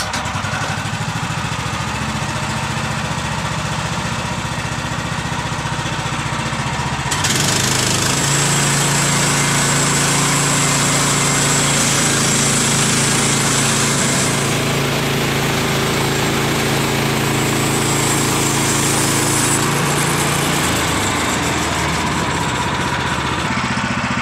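Sawmill slicing through a 19-foot log outdoors in the rain, a steady loud engine drone that rises into a sustained higher-pitched cutting whine partway through, then eases back near the end; no talking.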